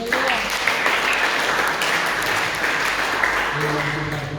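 A church congregation applauds during a sermon, with loud, steady clapping filling the room and a few voices heard beneath it throughout.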